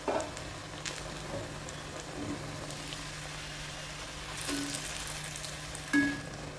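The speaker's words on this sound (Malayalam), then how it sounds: "നല്ല ക്രിസ്പി ആയിട്ടുള്ള പഴംപൊരിയാണ് കേട്ടോ. സൗണ്ട് കേട്ടോ." Banana fritters (pazham pori) fry crisply in oil, giving a soft continuous sizzle with a few louder spatters and stirring clinks, close by and without any speech.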